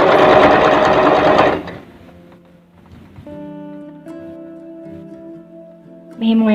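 Sewing machine stitching a washable cloth diaper near the elastic, a loud fast continuous whir for about a second and a half, then stopping and leaving faint hums and tones before a brief burst restarts at the end.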